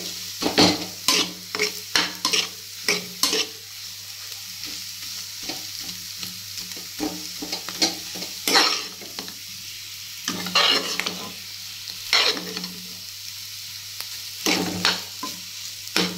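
Boiled potatoes being stirred into spices in a frying pan, with a steady sizzle underneath and repeated scraping strokes of a spoon against the pan that come in irregular bursts, close and clear, with no talk.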